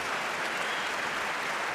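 Sustained audience applause fills a debate hall, a dense even wash of clapping that stays loud and steady throughout with no voices on top.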